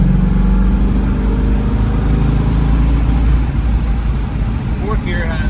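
A 1967 Shelby GT350 with a four-speed manual cruises in fourth gear at about 2,500 RPM, its engine a steady loud low drone heard from inside the car, with a voice speaking over it.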